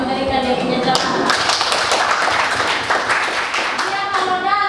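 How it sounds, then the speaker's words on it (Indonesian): Students clap in a high school biology classroom, a brisk burst of close, dense hand claps with voices mixed in, fading toward the end. "berikan tepuk tangan untuk yang memberikan dia punya jawaban"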